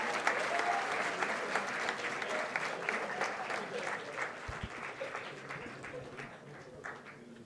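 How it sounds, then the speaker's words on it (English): An audience at the IIT Madras chemistry convocation applauds graduating MSc students with sustained, even clapping. The applause is fairly faint and distant, with a soft thump partway through. "please give a big round of applause for all 61 MSc"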